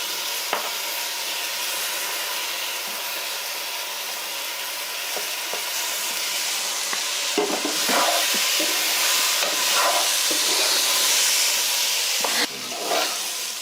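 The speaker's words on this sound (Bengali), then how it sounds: "চাউলগুলো আমি সামান্য একটু ভেজে নেব।" Washed, drained basmati rice frying in a pan makes a loud, continuous sizzle and hiss, with scraping stirs growing busier toward the end and no talking.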